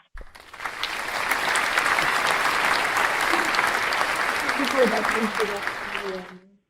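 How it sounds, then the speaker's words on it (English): A seated audience at the Baguio Youth Panel gives a round of applause welcoming the panel members, sustained dense clapping lasting several seconds before fading, with faint voices near the end. "Let's give them a round of applause."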